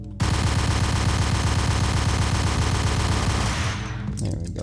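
Rapid tap-fired gunfire in the video game Max Payne, a dense unbroken stream of sharp shots for about three and a half seconds, loud and close, then cutting off abruptly.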